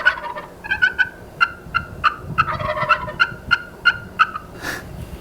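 A wild turkey in Texas ranch country gobbles repeatedly in rapid bursts, with sharp, short spitting pops and rattling calls fairly close by, ending with a soft drumming hum.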